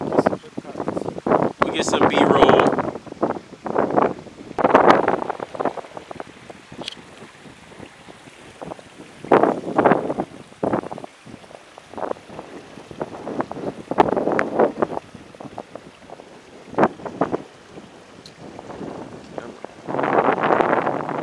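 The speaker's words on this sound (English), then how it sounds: "It's a windy night in Fort Pierce." Strong gusts buffet the microphone on a windy night in Fort Pierce, roaring in loud irregular bursts with brief lulls between them.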